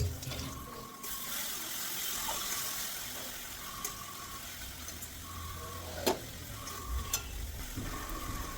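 Spice paste for spicy chicken stomach kosha sizzles in a pan with a splash of water, a quiet continuous frying hiss with occasional spoon scrapes and clinks, close but low in level, no voices.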